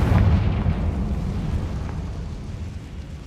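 A fiery Confringo spell explosion in the Hogwarts Legacy video game, a loud, dense blast that starts at full force and slowly trails off over a few seconds.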